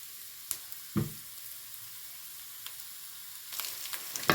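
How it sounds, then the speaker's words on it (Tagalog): Onion sautés in a pan, a steady close sizzle broken by a few sharp clicks and scrapes as it is stirred. "Igigisa natin yung ating onion na maigi"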